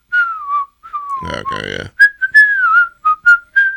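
A person whistles the strutting rooster tune from Robin Hood, clear bright notes in short phrases, loud and close, with a brief spoken interjection partway through.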